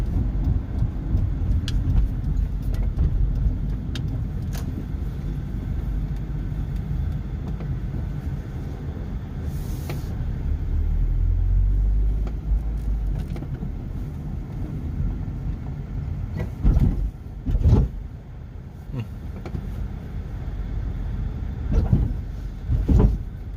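A small classic car drives along, its engine and road noise forming a steady low rumble heard from inside, with occasional clunks and bumps breaking through over about twenty seconds.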